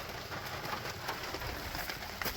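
Steady broadband hiss of heavy rain pours down outdoors beside a Toyota 4Runner during a thermostat replacement, constant and close, with no voices.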